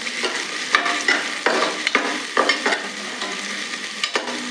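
Onions sauté in oil in a pan for Tirunelveli-style okra kulambu, a bright, continuous sizzle close by with repeated spatula scrapes and stirring knocks, and no talking.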